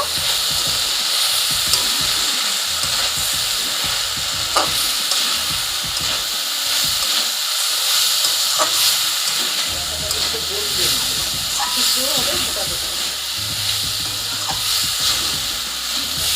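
Jackfruit seed curry with spices and coriander powder sizzles and hisses steadily in a pan while a spoon stirs and scrapes in irregular clicks and knocks.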